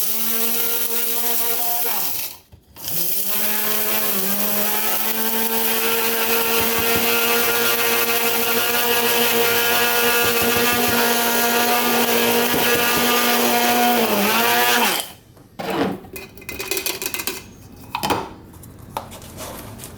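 Kitty litter being ground into casting sand by an electric grinder with a motor prone to overheating, a loud, close, steady motor whine that briefly dips near the start, then cuts out and gives way to clattering handling noises.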